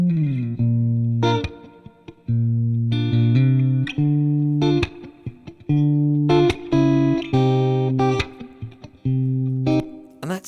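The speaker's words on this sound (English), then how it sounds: "And then after adding the preamp, the delay, and the reverb, it sounds like this." An electric guitar fed through a preamp, delay and reverb plays sustained chords and picked notes in phrases separated by short gaps, with fuller tone and lingering tails.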